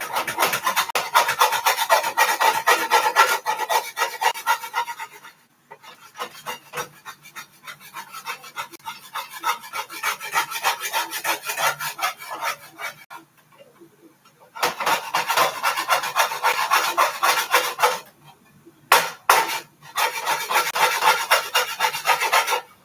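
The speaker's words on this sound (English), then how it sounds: "So I'm just scraping it." A cooking pot being scraped to remove dried-on juice from a shrimp and sausage boil: steady, rhythmic rasping strokes close by, in long runs with brief pauses.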